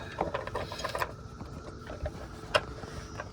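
A bolt being fitted while installing an assist step on a GM Chevrolet or GMC pickup truck, heard as faint, close metallic clicks and rattles of the hardware, ending with one sharper clink.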